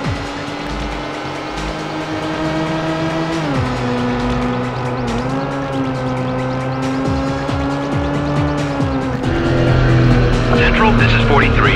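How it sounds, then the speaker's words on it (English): Aston Martin engine revving and shifting through gears during a police chase in Need for Speed High Stakes, loud and continuous with rising and falling pitch, tire noise and brief radio-style voices over it. "We have a report of a speeding Aston Martin past the field."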